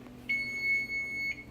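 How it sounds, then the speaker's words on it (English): A kitchen timer goes off while tomato soup simmers on low, a single sustained shrill electronic beep lasting about a second over quiet room background. "timer went off"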